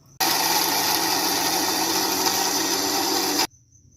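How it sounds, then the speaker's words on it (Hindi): An electric grinder whirs loudly and steadily while grinding roasted biryani masala spices at home, a continuous harsh motor roar that starts suddenly and stops abruptly after about three seconds, with no talk. "अब हम इसको ग्राइंड करते हैं।"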